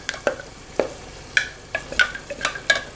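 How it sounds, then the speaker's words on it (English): A spoon scrapes and stirs a blended tomato, onion, paprika and cayenne mixture frying in a pan, giving a handful of distinct, irregular scraping strokes over a soft, low sizzle. "So I'm going to fry it a little bit,"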